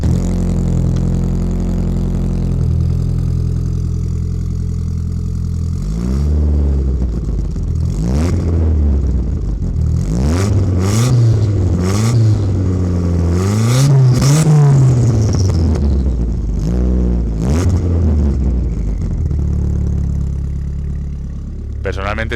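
A 1990s Ford Fiesta RS Turbo idles steadily through its exhaust, then gets a series of sharp throttle blips and longer revs that rise and fall several times, loud and close.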